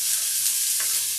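Onions frying in a pan for a pork stew give off a dense, even sizzling hiss, close and loud, heard alone for just over a second.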